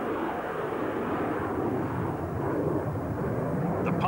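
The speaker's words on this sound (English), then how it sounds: "Classic Harrier manoeuvre, invented by John Farley, as the aeroplane powers away from Biggin in a 60-degree climb" A Harrier jet powers away in a steep 60-degree climb at the 1988 Biggin Hill air fair, its engine a loud, steady, broadband roar that holds unbroken throughout.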